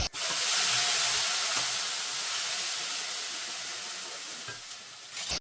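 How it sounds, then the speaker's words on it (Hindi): Onions frying in hot oil with cumin, coriander and tempering chillies, a loud continuous sizzle and hiss close by that fades slightly over several seconds, with a brief clink at the end. "मैंने जीरा धनिया डाल के तड़के की मिर्च डाल के फिर इसमें बस प्याज डाल दूँगी और इसको भून लूँगी अच्छे से"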